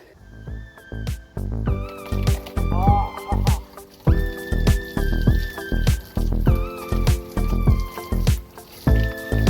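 A leaking DIY camp shower drips and splatters, close and irregular, with bright water plinks and tonal drops over wet squishy noise, no speech.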